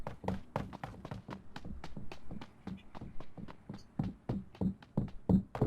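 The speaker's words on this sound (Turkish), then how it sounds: "Sanki ayak, ayak sesi var." Footsteps in the battle royale game Ring of Elysium, a steady run of close, evenly spaced soft thuds and taps carrying on for several seconds with no talk over them.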